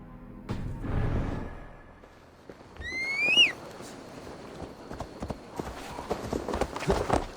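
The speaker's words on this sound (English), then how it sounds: "Basim, Eivor, to horse!" Horse hooves clip-clop in Assassin's Creed Valhalla, with a whistling cry partway through and other scattered sounds.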